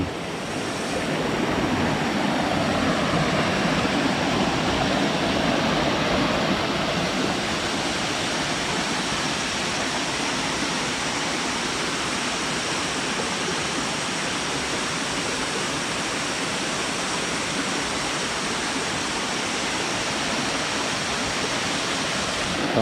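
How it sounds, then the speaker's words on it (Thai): Ngao Waterfall in Ranong province, Thailand, pouring steadily, a loud, dense and unbroken roar of falling water heard up close with no voices. "น้ำตกเหงาครับ จังหวัดระนอง"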